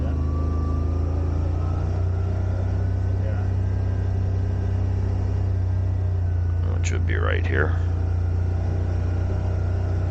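A Yamaha Wolverine RMAX2 side-by-side drives slowly toward a campsite entrance on a fall trail ride. A steady, low engine drone runs throughout, with people talking over it.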